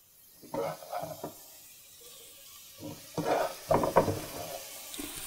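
Mushrooms and onion fry in a pan while being stirred, a soft sizzle with intermittent scraping and stirring noises, fairly quiet and close.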